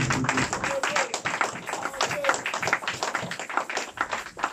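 A church congregation of the Église de la Restauration in Compiègne claps in steady rhythm throughout, dense and close, with voices singing and acclaiming underneath.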